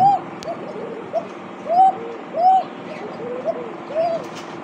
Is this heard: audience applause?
no